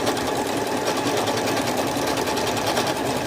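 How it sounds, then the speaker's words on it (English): Sewing machine stitching a label onto a tote bag, a loud, continuous, steady mechanical whir that runs close and unbroken throughout with no talking. "I want to get this label stitched on."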